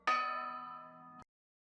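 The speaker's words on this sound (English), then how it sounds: "The heavy toll of the bell sounded again" One heavy cathedral bell strike rings out with a rich, sustained hum of overtones, then cuts off abruptly after about a second.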